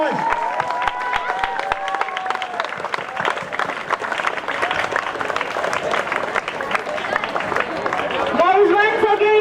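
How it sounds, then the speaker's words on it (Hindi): A school sports meet audience gives the chief guest a sustained round of applause, dense clapping running steadily throughout with an announcer's voice speaking over the crowd and swelling louder near the end. "please welcome our chief guest sir with a huge round of applause."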